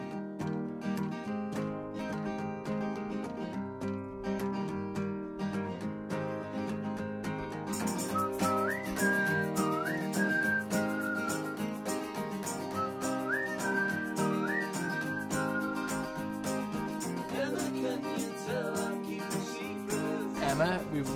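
A whistled song melody rises and falls over a steady band backing, clear and fairly loud, with long gliding notes repeated in phrases.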